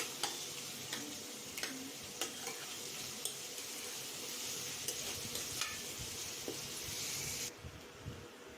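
Onions fry until browned in a pan for chicken sukka, a continuous soft sizzle under regular light taps and scrapes of a stirring spoon, with no talking.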